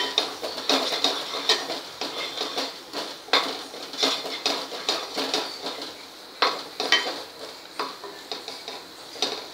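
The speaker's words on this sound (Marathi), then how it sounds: "आणि मसाला छान परतला जातो।" A spatula stirs and sautés ground masala paste in a pan while cooking matki usal, a sprouted moth bean dish. Steady, rhythmic scraping and clinking against the metal pan goes on, with a faint sizzle underneath.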